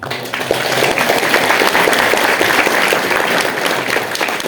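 At a theater performance in a shelter, the audience breaks into dense, loud applause, a continuous wash of many hands clapping close by with no clear pattern.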